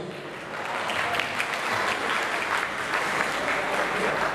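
Wedding guests in a banquet hall break into steady, sustained applause, a dense wash of clapping that holds even and loud throughout with no pause.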